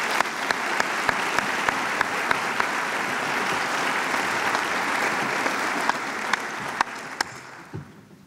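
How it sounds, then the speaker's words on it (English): A large audience at a university convocation gives a full round of applause, dense and steady clapping with a few sharp nearby claps standing out, fading away at the end. "Let's give one more round of applause."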